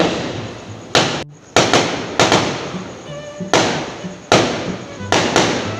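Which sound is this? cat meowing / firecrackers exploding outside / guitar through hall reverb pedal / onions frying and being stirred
firecrackers exploding outside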